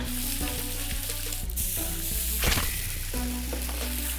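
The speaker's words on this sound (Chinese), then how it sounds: "Chef 这边开始已经要炒米粉了" Rice noodles stir-fry in a hot pan in a cooking competition kitchen, giving a loud, steady sizzle with occasional scraping and tossing sounds and a low background hum.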